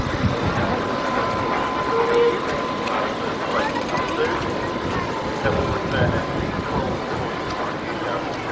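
Locomotive 3265 "Hunter" hauls a train past with a steady rumbling roll and faint rail clatter, while wind buffets the microphone and a voice talks.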